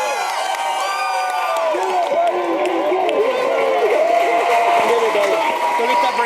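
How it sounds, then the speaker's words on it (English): A crowd at the 2018 World Series of Poker main event final table cheers, whoops and applauds for winner Tony Miles, a loud, continuous roar of many voices with claps mixed in, close and sustained throughout. "Let's have a nice round of applause for Mr."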